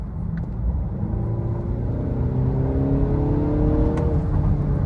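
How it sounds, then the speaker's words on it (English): A 2025 BMW X1's engine accelerates steadily from inside the cabin, a low rumbling drone rising smoothly in pitch over several seconds with no one speaking. "You can hear the engine doing its thing"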